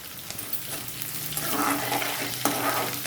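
Dried red chilies fry in a pan with chana dal, giving a soft hiss and crackle as they are moved around, close and steady for a few seconds.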